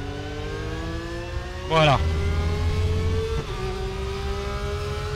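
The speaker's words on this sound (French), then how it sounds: "La bande sonore de Raceroom a toujours été pour moi, quasiment le meilleur pour moi." Porsche 911 GT3 R race car in the RaceRoom racing game, its engine droning steadily, then a sharp rev and gear change partway through, and a short spoken word during the engine sound.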